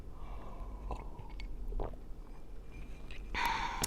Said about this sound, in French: je bois une gorgée d'eau pour canaliser